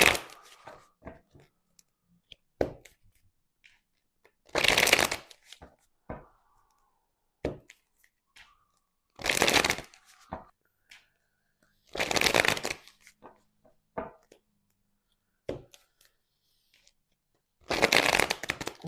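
Tarot cards are shuffled by hand in several loud, close bursts of riffling separated by quiet gaps with scattered light taps and clicks, heard alone without talk.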